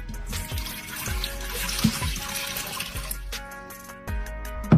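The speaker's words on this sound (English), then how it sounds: "we're gonna take 3 cups of water and we're gonna pour them in there." Three cups of water poured into the liner of a 15-in-1 multi cooker, an uneven splashing trickle with several soft knocks and clunks throughout.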